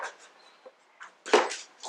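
A dog whines in the background of a garage, high and nasal, in several short bursts with the loudest near the end, heard alone without talking.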